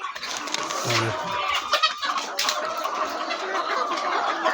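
Several sick chickens cluck on and off at close range against a busy farmyard background, with no one talking.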